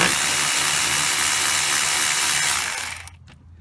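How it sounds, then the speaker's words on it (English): Power tool whirring steadily as it takes bolts off the cooling fan of a 2007 Pontiac Vibe, a loud continuous close-up drone that winds down and stops near the end. "I'm just gonna go ahead and take these bolts off."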